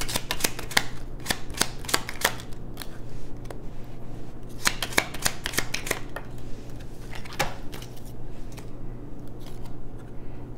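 Tarot cards shuffled by hand in a quiet room, a run of crisp, rapid riffling snaps and soft slides close to the listener, with a steady low hum underneath and no talking.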